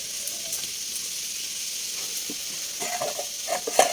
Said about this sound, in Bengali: এই যে দেখো ফোড়ন দিয়ে দিয়েছি কালো জিরে কাঁচা লঙ্কা আর হচ্ছে পেঁয়াজ